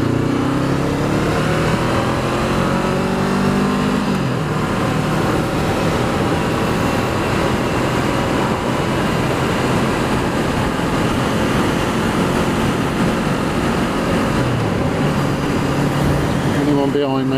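A 2019 Honda CB500F inline-twin motorcycle engine drones loudly and continuously while riding, rising and falling in pitch with wind noise, and a voice talks briefly over it.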